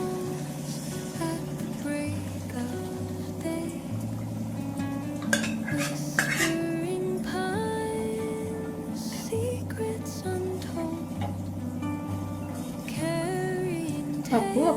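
Cooked lentils (dal) poured into a pot of softened tomatoes, with steady clinking of a metal spoon against the pot and stirring scrapes under soft background music.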